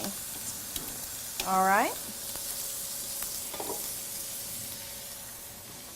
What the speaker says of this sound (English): I really want to focus on searing that meat in the pan